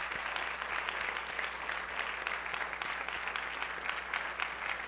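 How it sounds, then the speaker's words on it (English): Audience applause for the candidates at a League of Women Voters Board of Education forum on the North Shore, New York, in 2022, steady moderate clapping from a room of people, fairly distant and continuous throughout. "I'd like to have a great round of applause for all of our candidates"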